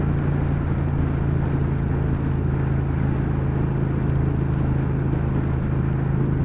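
A 2019 Triumph Speed Twin parallel-twin motorcycle pulls hard under throttle, its steady low engine drone and exhaust rumble mixed with heavy wind roar at road speed.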